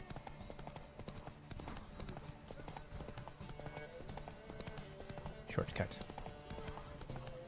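Horse hooves clip-clop at a steady gallop in the video game The Witcher 3, a rhythmic thudding run under game music, with a brief voice calling out over it.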